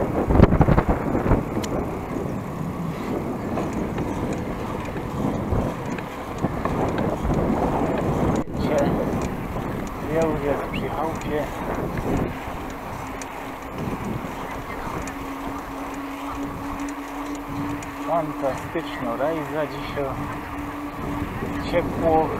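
Steady wind rushing and buffeting the microphone outdoors, with a low engine drone and occasional distant voices underneath.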